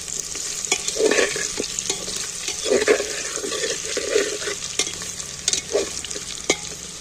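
Potatoes fry softly in a pan while a utensil repeatedly scrapes and pokes at them in irregular bursts, close up and without talking.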